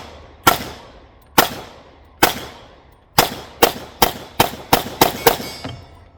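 An STI Grandmaster pistol with a compensator fires at the range, ten sharp, loud reports with ringing tails, the first few spaced about a second apart, then a faster string of quick shots.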